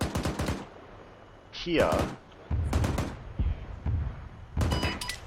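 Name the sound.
machine gun fire in the video game Arma 3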